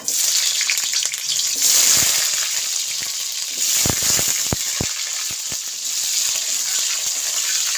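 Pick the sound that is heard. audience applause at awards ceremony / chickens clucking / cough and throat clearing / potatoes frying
potatoes frying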